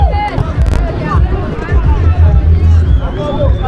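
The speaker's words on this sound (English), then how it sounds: "I can tell you fans are cheering at Delphin." Football fans at a match at Lua Grounds cheering and chattering, a loud close crowd babble with shouts and whistles rising over continuous talk.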